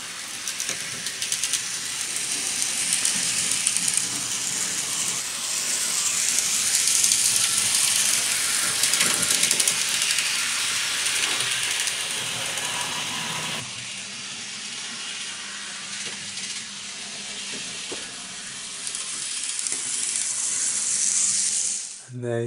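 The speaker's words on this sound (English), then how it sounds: "And there you see the train running there" A Kato N gauge JNR Class C57 model steam locomotive runs along its track with a continuous hissing, whirring mechanical rattle that stays fairly steady and shifts slightly in tone partway through.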